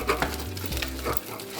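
Flour being mixed into choux pastry dough in a pot just taken off the heat, for profiteroles: close, thick scraping and stirring strokes that keep a steady rhythm, with no voices.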